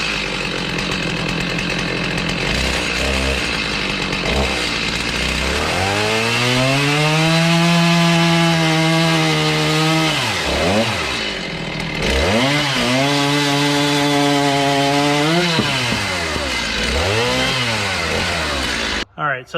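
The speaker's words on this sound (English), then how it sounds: "All right, so I'm gonna use the chainsaw again." A chainsaw cuts through wood for a garage door header, its engine revving up and bogging down in long sweeping cuts, loud and close, with brief dips between passes.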